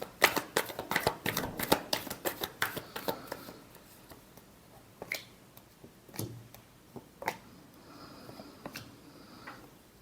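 Tarot cards are shuffled by hand in a quiet room, a rapid run of crisp riffling snaps that thins out into a few scattered flicks and taps, close and clear with no talking.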